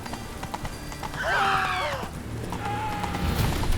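Horse hooves clip-clopping at a canter in the open-world game The Witcher 3, with a loud whinny rising midway, a steady rhythmic gait under an ambient game soundscape.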